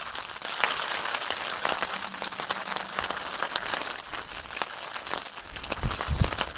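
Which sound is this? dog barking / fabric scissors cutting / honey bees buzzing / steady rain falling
steady rain falling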